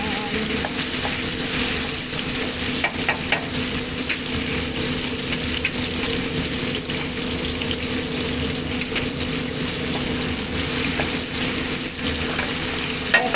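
Alamang shrimp paste sautéing with tomatoes in a pan, a steady dense sizzle and frying hiss running the whole time with occasional soft stirring scrapes, close and continuous with no talk.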